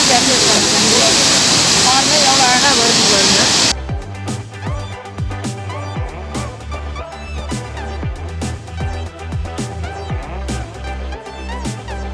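Water roars out of two open sluice gates at Senbagathoppu dam in Thiruvannamalai, a loud, broad rushing wash for about four seconds before music takes over.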